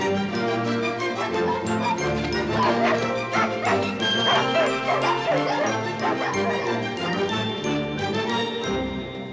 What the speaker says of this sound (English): Release the hounds.